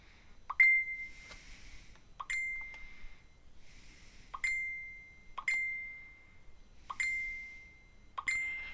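A phone sounds a series of six short bright notification dings at irregular intervals, each with a quick ringing decay, fairly faint and alone in a quiet room.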